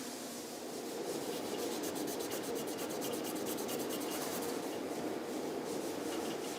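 Sanding by hand across the surface of a glider during refinishing, a steady close rubbing and rasping that runs continuously and evenly, with no talk.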